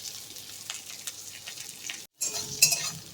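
Chopped bitter gourd fries in a pan, a soft continuous sizzle with light stirring clinks, growing louder and brighter after a brief gap.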